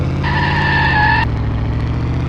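A Tofaş car in a Unity game test drive skids, its tires squealing in a steady high tone for about a second over a constant engine drone, then the squeal cuts off while the engine hum continues.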